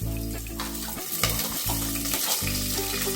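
Curry leaves, ginger and garlic sizzling in hot oil in a pan while making beetroot rice, a steady close crackle with brief stirring scrapes and no talk.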